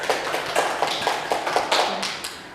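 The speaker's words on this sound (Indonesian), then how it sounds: "Aplaus untuk Mas Andika." Audience applause at a government employee orientation seminar, a small group clapping in quick, fairly even rhythm for a few seconds, close and moderately loud, then tapering off.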